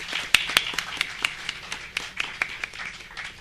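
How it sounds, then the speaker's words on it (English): Scattered audience applause greets a guest being felicitated at a corporate recruitment talk: a handful of sharp, separate claps, fairly quiet and uneven in rhythm, with no talking. "Please give a huge round of applause."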